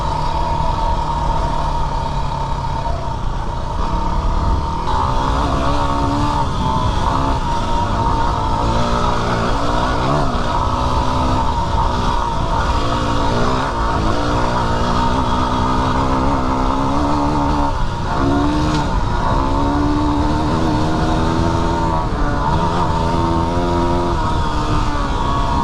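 A Yamaha WR250R dual-sport motorcycle's engine is ridden hard in one gear near Lake Elsinore, with a steady, loud, continuous drone rising and falling through revs for the whole stretch, with no talk.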